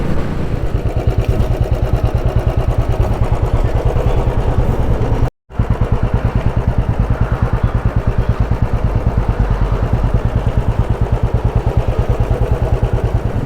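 A 2015 Royal Enfield Bullet engine runs steadily and loudly on a highway with rapid rhythmic pulsing, briefly cutting out for a moment before continuing.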